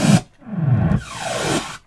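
Analog Roland Alpha Juno synthesizer keyboard playing a short effects sound: a noisy burst, then sweeping and gliding tones that bend down and up over about two seconds, heard alone.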